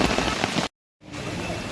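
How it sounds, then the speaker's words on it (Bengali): Heavy rain pours in a steady, dense hiss during prolonged monsoon downpours, broken by a sudden brief gap of silence before the rain noise resumes. "3 দিনের টানা বৃষ্টিতে সৃষ্টি হয়েছে বিভিন্ন এলাকায় জলাবদ্ধতা"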